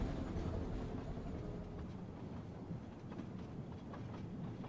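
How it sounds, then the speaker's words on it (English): Rumbling Orient Express train rolling on rails, a dense continuous roar with faint rhythmic clicking of wheels over track joints, heard from inside the carriage with no talking. "Yes, we are in the train again."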